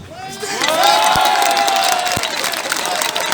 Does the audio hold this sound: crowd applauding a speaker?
yes